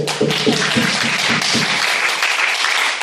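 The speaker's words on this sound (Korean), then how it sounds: "여러분 박수 한번 해주세요." A church youth-service audience bursts into dense, loud applause that fills the whole moment, with some faint voices mixed in.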